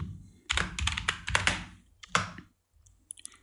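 Computer keyboard typing during an After Effects session, a close burst of quick clattering key presses followed by a pause and a few lighter scattered taps.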